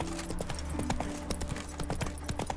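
Geralt's horse Roach trotting in The Witcher 3: steady, close clip-clop of hooves in a regular rhythm over a continuous ambient bed of wind and background tones.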